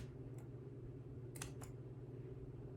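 Two quick snips of dull scissors cutting through fabric patch material, crunchy rather than clean, over a steady low background hum.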